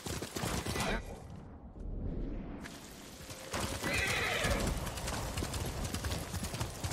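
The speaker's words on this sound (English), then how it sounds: "Good horse." Hooves clop rhythmically while a horse gives a loud whinny partway through, from the video game Ghost of Tsushima, with faint pops in the background.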